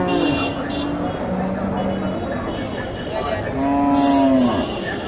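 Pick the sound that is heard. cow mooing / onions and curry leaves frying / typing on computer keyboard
cow mooing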